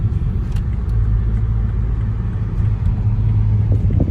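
Toyota GR Supra MK5 A90 automatic driving on the road, heard from inside as a loud, steady low engine drone and tyre rumble with no speech.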